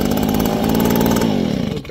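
A Stihl handheld leaf blower, warm and without choke, pull-started: the small two-stroke engine catches at once and buzzes loudly and steadily up close before cutting out at the end.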